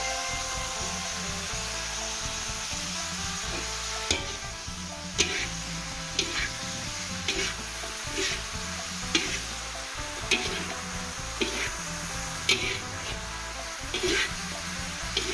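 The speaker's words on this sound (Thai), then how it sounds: "ผัดฉาปลาปึ้งนะคะพี่น้องนะคะ" River fish from the Mun River is stir-fried in a hot pan for a spicy pad cha, a constant close sizzle punctuated by regular scraping and tapping of a spatula, with no talking.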